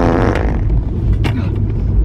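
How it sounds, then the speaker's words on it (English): A low, rumbling fart sounds close and fairly loud, a sustained sputtering burst with a sharper puff midway, no talking over it. "Bro, did you fart again?"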